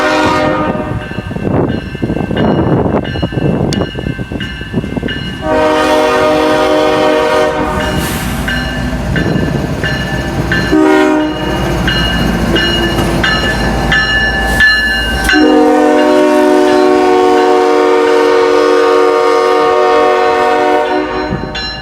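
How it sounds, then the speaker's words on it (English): An eastbound CSX intermodal freight train rounds a bend at Dolton Junction near Chicago, rumbling loudly and continuously while its horn blasts several long, sustained tones. "we see an eastbound CSX intermodal round the bend"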